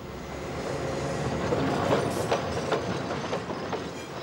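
A Montreal metro train runs with a steady, loud underground rumble. Faint rhythmic clicks from the wheels sound over the rails throughout.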